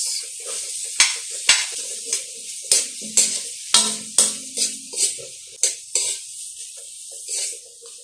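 Sliced onions sautéing in a pan with ginger and garlic for sweet and sour lapu-lapu fish: a soft sizzle broken by repeated sharp scraping stirs, close and steady, with no talking.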